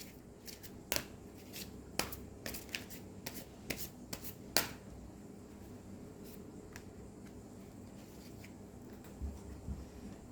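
Oracle cards are shuffled and drawn quietly, with irregular crisp snaps and soft rustling taps scattered over a faint room hiss.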